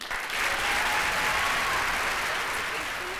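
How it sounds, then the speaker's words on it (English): A crowd at a junior pageant in Indiana claps in sustained applause, a dense, even wash of hand claps from a large audience that carries on for several seconds. "let's hear it once again for our fabulous current Indiana Junior Miss Katie Stam."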